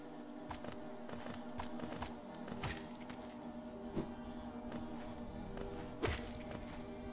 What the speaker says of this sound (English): There's bees on the other side of the wall,